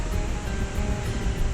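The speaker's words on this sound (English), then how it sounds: "We're headed back behind the waterfall here, and it is pretty wet." Water thundering down behind a waterfall in Iceland, a dense, steady roar with wind buffeting, continuous and close without pause.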